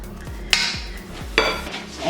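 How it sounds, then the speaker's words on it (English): Freshly drained pasta tipped into a mixing bowl for a seafood pasta salad in a home kitchen, with two sharp clattering impacts against the bowl amid soft scraping and low thuds, no talk. "I've drained my pasta and I'm going to add it to the bowl."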